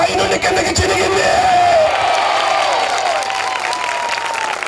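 Audience applause fills a Christian worship gathering at a festival-style Telugu prayer meeting, sustained and loud throughout, with cheering and shouts rising above the dense clapping.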